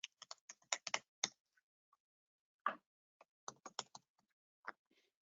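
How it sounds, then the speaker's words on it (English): Fingers type on a computer keyboard in quick bursts of close, soft clicks. Short quiet pauses separate the bursts, and no voice is heard. "So I can type whatever I want in here."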